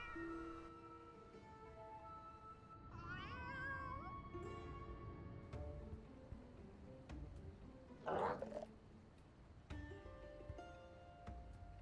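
In Final Fantasy XIV Heavensward, a cat meows faintly with warbling, gargly calls, one louder meow standing out, set against a low game soundscape with no speech.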